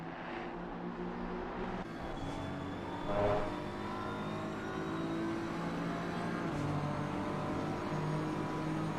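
Race car engines drone and rev at Watkins Glen in a sim racing endurance event with Aston Martin and BMW M4 cars, a steady layered engine whine with one car briefly swelling louder as it passes.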